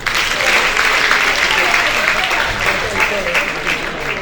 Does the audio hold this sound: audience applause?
yes